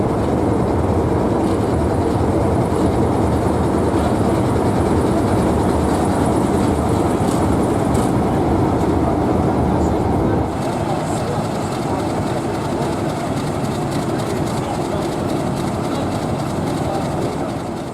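Class 03 shunter 03119 diesel locomotive working a train bound for Ongar, a loud, steady engine drone and rumble close by that continues throughout, easing slightly partway through.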